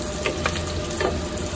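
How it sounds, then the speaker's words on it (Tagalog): Garlic and onion sautéing in a pan, a steady close sizzle with a few soft stirring scrapes, no voices. "ginisa ko lang yung ating bawang sibuyas"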